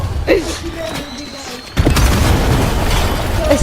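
A loud boom erupts midway through a video game session, a sudden broad blast followed by sustained rumbling, with voices talking and shouting before it.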